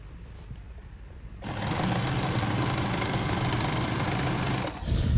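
A sewing machine runs steadily, stitching down an elastic waistband on baggy trousers; a quiet start gives way to a continuous close motor whir that holds for several seconds before a brief dip and a final burst.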